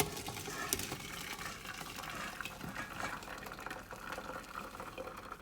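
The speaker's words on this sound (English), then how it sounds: "now I'll be draining all this rice water." Boiled, nearly cooked rice water pours steadily through a strainer, a continuous close splashing rush of liquid with no talking.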